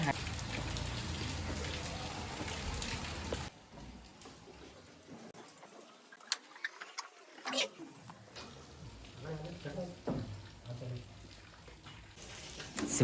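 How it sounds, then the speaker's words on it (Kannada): Steady rain patters down on a surface, a continuous wash of drops with a few sharper splashes standing out. "ಕಡೆಗೆ ಮಳೆ ಒಂದು ಬರ್ತಿದೆ"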